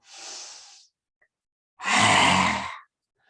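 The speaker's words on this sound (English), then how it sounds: "Rasping sound in the throat and comes into the chest as well." A yoga breath rasps in the throat: a soft airy exhale, a pause, then a louder, fuller rasping breath lasting about a second, close and alone with no talk.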